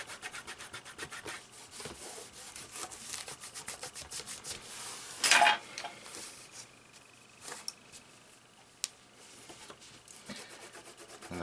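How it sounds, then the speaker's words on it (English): A cloth rubs back and forth over the wooden cabinet of a GEC G836 transistor radio, making soft, close scratchy strokes with one louder burst of rubbing partway through and a few small knocks. "Give that another wipe down"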